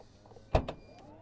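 Rear tailgate of a 2024 Forthing T5 EVO SUV opening, a brief quiet mechanical release click followed by a short second clunk, alone in a quiet setting.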